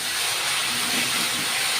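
Ginger, garlic and onion paste fries in hot oil with a steady, loud, close hiss and sizzle that runs unbroken from start to finish.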